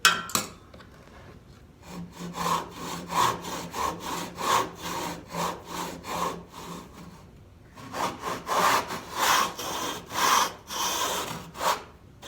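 A hand saw cuts wood for a saw-tooth shelf in a hand-tool woodworking shop, with rhythmic rasping back-and-forth strokes, close up, in two bursts separated by a brief pause.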